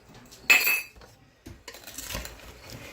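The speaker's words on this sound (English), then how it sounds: "we're going to sprinkle this over the top and then mix it all together" Dishes and utensils clink against a bowl as sliced cucumbers are tossed with canning salt, with a sharp clatter near the start and then softer scraping and stirring for bread and butter pickles.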